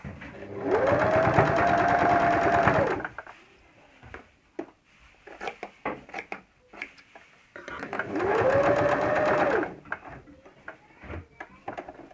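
A sewing machine stitches quilt patchwork in two steady runs of a few seconds each, with a rising and falling motor whine. Between the runs come quiet clicks and handling noises.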